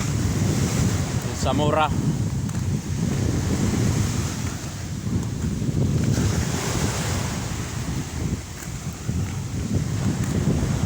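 Steady surf and gusting wind at a beach, with waves washing continuously and wind buffeting the microphone throughout; a brief voice cuts in early on.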